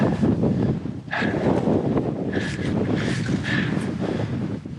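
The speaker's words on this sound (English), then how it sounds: "Wind on our shoulder for this." Wind roars steadily across the microphone during a November mountain bike ride on open single track at Carlton Bank, a loud continuous rushing buffet with gusty swells and no talking.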